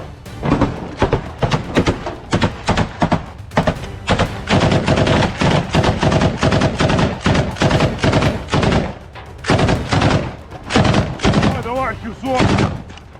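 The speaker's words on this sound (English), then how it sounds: "gunshots rang out from within the building" Loud, close bursts of rapid gunfire inside a building during close-quarters combat in Ukraine, volleys of shots that stop briefly and resume, echoing heavily in the enclosed space.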